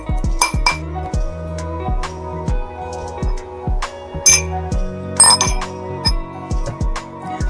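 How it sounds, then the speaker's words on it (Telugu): Tulsi leaves are pounded by hand in a small mortar, giving regular sharp clinking metallic strikes, close and fairly loud, about two per second. "జస్ట్ ఇలా దంచేసుకోండి."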